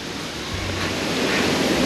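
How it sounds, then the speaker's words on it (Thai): Steady roar of a waterfall in Nakhon Nayok, Thailand, a broad continuous wash of rushing water with some wind rumble, fairly loud and unbroken. "ถึงแล้วเนี่ยน้ำตกอยู่นี่มาดูกัน"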